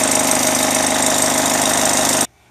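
Old Jet scroll saw running with heavy vibration: a loud, steady mechanical drone with rapid rhythmic rattling that continues without pause, then cuts off abruptly near the end, leaving near silence.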